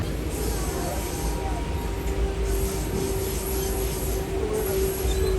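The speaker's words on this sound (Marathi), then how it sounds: "आपली ट्रेन लागली आहे टिटवाळा स्टेशनला" A suburban local train pulls into Titwala station with a continuous rolling rumble of rail cars and a thin, sustained wheel squeal rising over the clatter as it slows.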